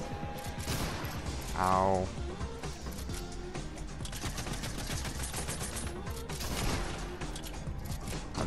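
Gunfire crackles through a Fortnite Arena match as dense, steady shooting, with one louder burst partway through, running beneath a player's short voiced reaction.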